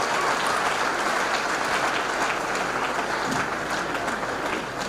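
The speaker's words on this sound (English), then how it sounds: "let's give them another round of applause" A crowd at an induction ceremony for new veterinary doctors gives a steady round of applause, with continuous many-handed clapping at an even level throughout.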